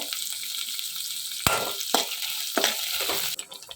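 Shallots crackle and sizzle in hot oil with curry leaves and dried red chillies, a steady close frying hiss broken by several sharper spatters and stirring clicks.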